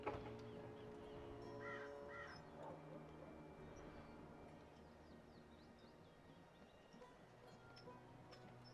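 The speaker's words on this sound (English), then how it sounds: "Go look for that goddamn bird over there." Crow in the video game Dreamfall Chapters giving a few distinct caws early on, moderately near, over a faint, steady ambient bed.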